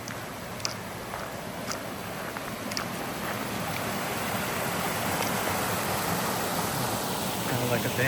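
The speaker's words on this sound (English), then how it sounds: "There's a waterfall over here." Steady broadband rush of water spilling over a small dam, a continuous hiss heard from a short distance with occasional faint clicks over it.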